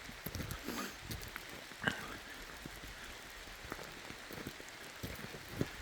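Rain falls in the Hoh Rainforest, a soft steady patter of drops on leaves and ground, faint and continuous, with occasional louder nearby drips and footsteps.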